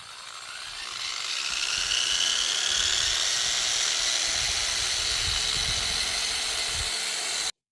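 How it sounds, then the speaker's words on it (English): A power tool spins a wire brush against metal, descaling it at a grease and inspection pit. The harsh, steady high scraping whir ramps up, holds without letup for several seconds, then cuts off abruptly. "I got the wire brush on it."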